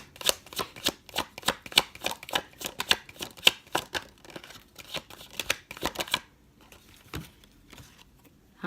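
Tarot cards being shuffled: a steady run of rapid riffling flicks for about six seconds, close and crisp, followed by a few scattered soft card handling sounds, with no talking.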